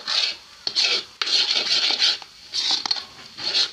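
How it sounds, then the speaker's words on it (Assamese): Sweet pitha mixture being stirred in a pan, a spoon scraping and rasping against the metal in repeated strokes, close and fairly loud with short gaps between them. "লৰাই আছো"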